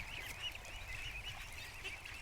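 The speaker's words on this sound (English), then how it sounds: "There's a whole bunch of ducks up at the" Ducks and goslings clustered by a clothesline stand in a yard make a brief, steady mix of honks, quacks and high peeps a short way off, with no voices.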